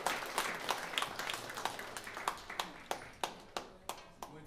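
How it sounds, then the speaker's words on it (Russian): Audience applause at a live group performance, dense clapping at first that thins into separate, sharper claps before fading, fairly close and alone without talk. "Аплодисменты, пожалуйста."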